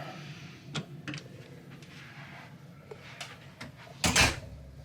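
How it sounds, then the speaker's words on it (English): A cruise ship cabin door on an aft corner cabin of Royal Caribbean's Adventure of the Seas opens with scattered light clicks and latch taps, then a louder brief clunk near the end. "as you open the door"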